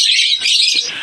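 An opaline lutino pet bird gives a quick series of bright, close chirps, loud and alone for about a second.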